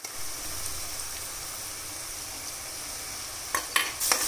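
Sliced onions sizzle steadily in a pan with a constant close hiss while cooking rajma, and a few sharp clinks of a stirring spoon land near the end.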